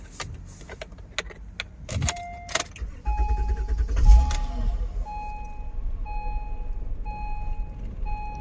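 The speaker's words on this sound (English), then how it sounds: "let's see if we can start the car without the relay" An Acura car engine cranks and briefly catches, then dies down, stalling with its fuel pump relay removed, with key clicks beforehand and a repeating chime beeping steadily afterward.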